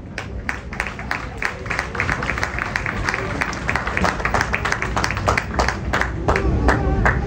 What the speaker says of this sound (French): je demande à l'assistance de vous applaudir